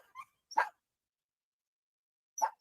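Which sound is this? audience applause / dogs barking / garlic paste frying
dogs barking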